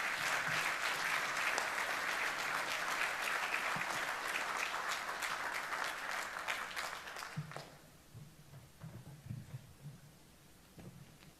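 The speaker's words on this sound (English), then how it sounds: "Please give General Stuart a big round of applause." An audience at a military symposium gives a general a round of applause, a thick, steady ovation lasting about seven seconds before tapering into scattered claps and murmuring.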